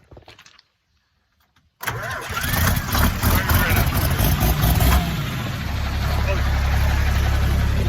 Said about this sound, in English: We'll see if the tractor starts, I suppose.